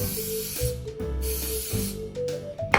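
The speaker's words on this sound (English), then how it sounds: "Now you're going to use non-stick spray and spray in each pan." Non-stick cooking spray hisses in several short bursts into a muffin pan, close and fairly quiet, with small clinks of the can between sprays.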